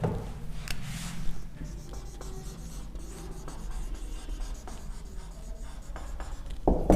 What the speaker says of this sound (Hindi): चलिए अब हम लोग नीचे लिख लेते हैं